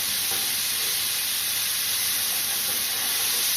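Onions, bell peppers, leek whites and celery sauté in a pot with salt pork, making a loud, steady, close hiss that runs without a break.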